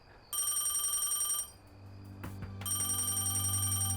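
An electronic telephone rings in bright repeated trilling bursts, pausing briefly before ringing again, clear and close in a quiet office.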